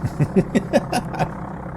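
Aircraft engine from the Amiga version of the Flight Simulator II game: a rough, pulsing mechanical drone with a quick beating rhythm, fairly loud and close, heard on its own.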